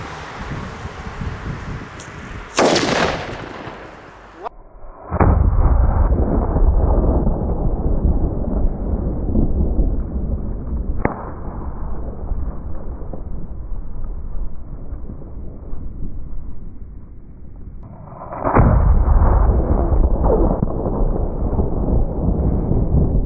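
Funke D and Rotring D firecrackers exploding outdoors, two loud sharp blasts several seconds apart, each followed by a long rumbling, crackling tail of echo and debris, with no talking.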